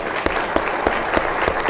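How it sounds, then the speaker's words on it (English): Conference audience applauding a panel of speakers at a hospitality industry event, a steady wash of many hands clapping at moderate loudness throughout, with no talking over it. "Just a quick round of applause for all of them to be joining us today."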